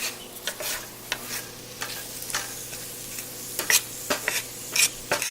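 Onions sizzle steadily in a hot pan while quesadillas are made, with a soft constant frying hiss and repeated scraping stirs and light clinks of a utensil throughout, no voices.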